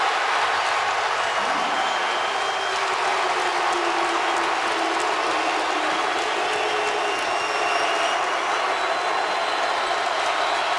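A basketball arena crowd at a Florida Gators vs Vanderbilt Commodores game cheers and applauds a made basket, a dense, steady roar of clapping and voices that holds loud throughout.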